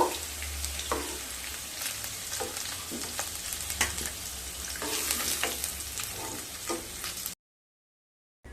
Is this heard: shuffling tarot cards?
no